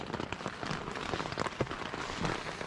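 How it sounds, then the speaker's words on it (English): Steady rain patters on a surface, a soft continuous spatter of drops with no talking, falling through the night in Chicago Basin in the mountains. "Yeah, it's been raining all night"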